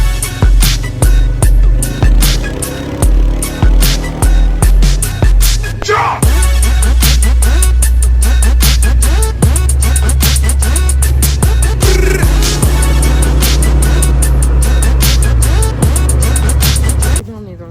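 A quad bike runs in the desert near Marrakesh, its engine droning loud and close with rough bumps and wind buffeting.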